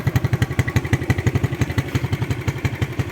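A 2007 motorcycle engine idles smoothly up close, producing a steady, even stream of rapid low thumping pulses with no talking.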